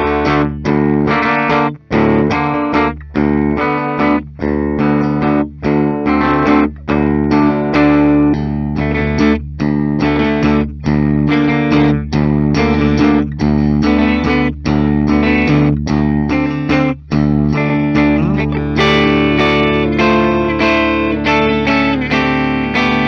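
A 2010 Gibson Custom Shop Jimmy Page #2 electric guitar played through heavy effects, distorted and chorused chords ringing continuously with short rhythmic breaks, loud and up close.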